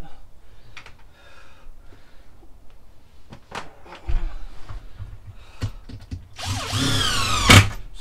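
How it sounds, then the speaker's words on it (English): A power drill drives screws into a wooden bench seat frame for a DIY campervan conversion, with scattered clicks and handling noises first, then a loud whirring burst of the drill near the end. "Now we put some more screws in it just to give it some strength."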